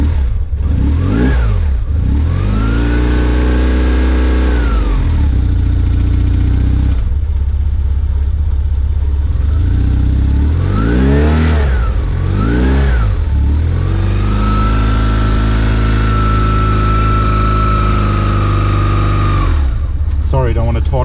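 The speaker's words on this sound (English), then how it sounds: "Sorry, don't want to torture the engine here. Just want you to hear how that sounds like." A 2001 BMW R1150GS motorcycle with 35k miles revving repeatedly from idle, loud and close, each throttle blip rising and falling between steady idling stretches.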